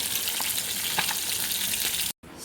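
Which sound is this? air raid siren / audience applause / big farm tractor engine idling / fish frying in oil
fish frying in oil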